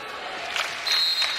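A home crowd cheers and roars at a Stanford versus UCLA volleyball match, a steady broad wash of voices swelling slightly, with no clear talk over it.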